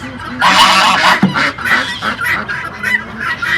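Loud, harsh honking calls from ducks on a farm burst out repeatedly in a noisy, overlapping cluster, close by.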